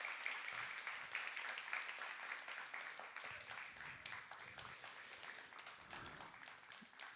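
A children's congregation at a Friday church worship service claps together in steady, sustained applause that fills the room at moderate loudness throughout.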